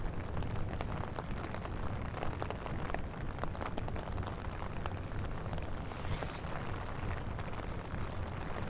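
Rain pours down at Court Square in Long Island City, a steady, dense hiss of drops striking pavement and leaves that stays even throughout, close and fairly loud, with no talking.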